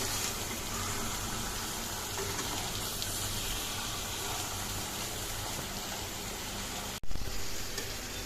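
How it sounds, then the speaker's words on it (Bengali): Potatoes stir-fried slowly with spiced meat in a pan give a steady, close, loud sizzle and hiss that runs throughout, broken by one sharp clatter near the end. "এবারে দিয়ে দেবো এই আলুগুলো, দিয়ে আবারও কষাবো। খুব আস্তে আস্তে কষাতে হবে।"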